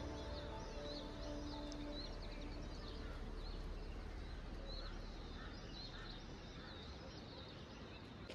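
Birds calling in a calm morning outdoors, repeated quacking and chirping calls scattered over a steady hiss, faint and distant.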